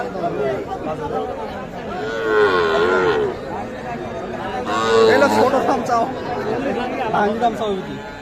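A calf at a cattle market gives two long, loud moos close by, with people chattering and bargaining throughout.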